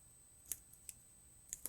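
Scissors snip through paper card for a handmade whirly wheel card, giving about five short, crisp, quiet cuts spaced irregularly over near silence.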